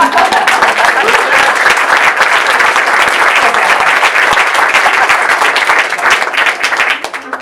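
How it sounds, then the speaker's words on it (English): Coffeehouse audience applauding a bluegrass musician during a live set, dense, loud and close clapping that holds steady throughout and thins slightly at the end. "Give him a round of applause"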